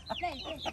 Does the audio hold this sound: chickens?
yes